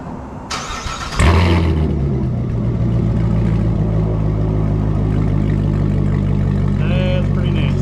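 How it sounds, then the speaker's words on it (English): A Chevrolet C7 Corvette with an MRT cat-back exhaust, full H-pipe and muffler-delete tips cranks and fires up loudly close by, then settles into a deep, steady rumbling idle with a brief rev blip near the end. "let's give it a start up with the entire MRT system in, full H-pipe, and the muffler delete tips"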